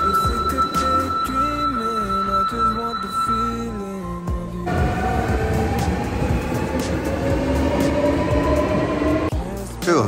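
An Osaka subway train runs underground with steady rumbling. Its motor whine holds level, then steps through shifting pitches as the train changes speed, and the rattle grows louder and rougher midway through.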